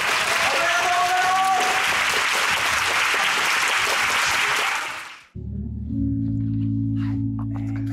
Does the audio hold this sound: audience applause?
yes